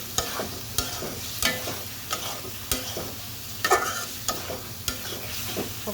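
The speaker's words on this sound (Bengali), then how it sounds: "কাঁচা টমেটোগুলো সবগুলা দিয়ে দিচ্ছি। নেড়ে চেড়ে নেই" Raw green tomatoes sizzling in a frying pan while a utensil stirs and scrapes them in irregular knocks over a continuous close frying hiss.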